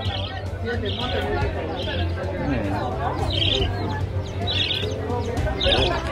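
Small birds chirp in quick, bright repeated bursts at a market stall that also sells turtles and fish, heard over steady low background hum and nearby crowd talk.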